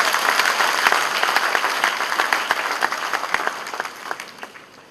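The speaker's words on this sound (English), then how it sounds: "Can you give yourself a wonderful applause?" Enthusiastic applause fills a hall at an induction ceremony for new members, sustained crowd clapping that thins into scattered individual claps as it fades.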